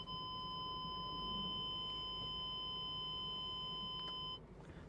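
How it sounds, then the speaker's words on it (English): Steady electronic warning tone from the scrape sensor of a 2023 Audi RS6, held continuously over a low road and engine rumble for about four seconds before it cuts off. "They think you're gonna scrape. So nice, it's kind of a warning that you might scrape"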